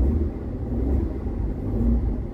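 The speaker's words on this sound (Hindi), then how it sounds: "खड़ी गाड़ी में इंजन घूमना सिखाना है।" Engine of a parked car with the accelerator pedal pressed smoothly and held, a steady low rumbling drone that rises slightly as it revs, close and continuous without speech.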